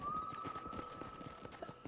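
A panicking horse in the video game Red Dead Redemption, with rapid clip-clopping hooves and a whinnying neigh over a steady tone and faint game sounds.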